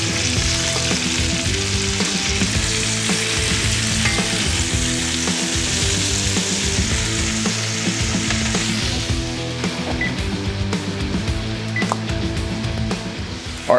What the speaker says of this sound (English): We'll throw the onions in, let them get translucent, and then we'll add the other vegetables.